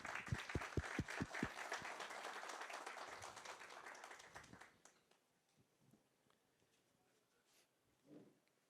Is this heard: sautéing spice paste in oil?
no